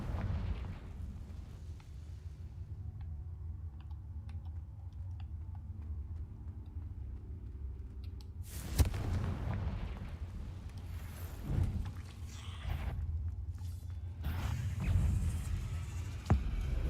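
Confringo fire spells burst in the Hogwarts Legacy video game: about four sharp, loud explosions with booming tails, spread across a low, rumbling game background.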